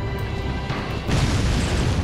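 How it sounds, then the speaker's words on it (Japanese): A thrown explosive detonates in Resident Evil 4, a sudden deep boom about halfway through that gives way to a loud, dense rumble continuing to the end. "ちょっと爆発物とか投げとく。"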